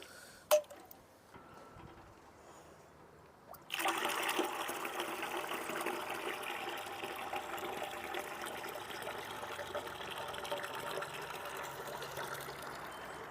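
Tea-dust liquid fertilizer diluted with water is poured onto tuberose plants, starting with a faint tap and then turning into a steady splashing trickle that runs on continuously at moderate loudness.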